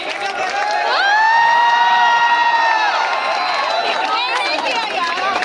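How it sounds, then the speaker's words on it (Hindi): A college crowd greets an arriving guest with loud, sustained cheering, shouting and whistling, a dense roar that holds steady before thinning slightly near the end. "जोरदार तालियों के साथ स्वागत कीजिए"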